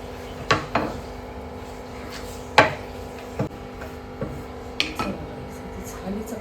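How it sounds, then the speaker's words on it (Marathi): A tava griddle is set down on a stove, giving a few sharp metallic clanks spaced out over several seconds, followed by softer knocks and a low steady hum. "तवा टाकला माझा."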